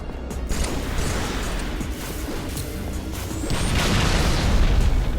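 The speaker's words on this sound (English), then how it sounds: "They are throwing grenades" Grenade explosions in a Halo 3 esports match, a steady wash of rumbling booms and blasts under game noise that grows louder and fuller toward the end.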